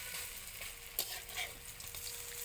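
Taro fritters sizzle steadily in hot frying oil as they are turned over, giving a continuous fizzing hiss with a brief scrape and splash at the flip, no voices present.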